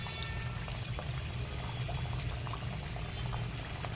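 Food frying in plenty of hot oil bubbles steadily throughout, a dense, even sizzle with no talking.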